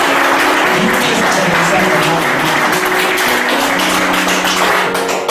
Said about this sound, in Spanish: Aplaudan al Señor, hermano. Aplaudan al Señor.